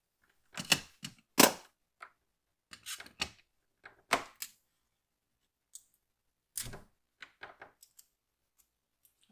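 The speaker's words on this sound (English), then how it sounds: "So now it's time to add some heat tape." Heat tape being pulled and applied to a frosted glass bottle for sublimation, giving a series of sharp, close tearing and sticking crackles in short bursts separated by quiet pauses.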